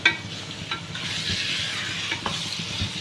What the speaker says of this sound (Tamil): இந்த மாதிரி நல்லா கிண்டி விட்டுக்கலாம்.